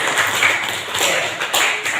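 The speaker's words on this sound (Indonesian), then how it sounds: "Support dan tepuk tangan dulu buat kalian yang sudah mengerjakan soal pretest." Students clapping in a classroom, a brief patter of scattered hand claps with a few sharper accents, fairly close.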